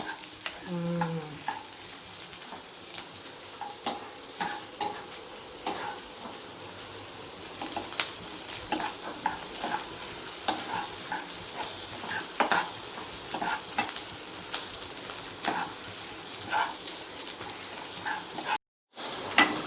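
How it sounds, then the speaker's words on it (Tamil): Onions and dried chillies sautéing in a pan, a steady soft sizzle broken by repeated scraping clicks of a spoon stirring, fairly quiet and close, with no speech. "இப்போ என் பொண்ணு வெங்காயம் வதக்கிட்டு இருக்கா"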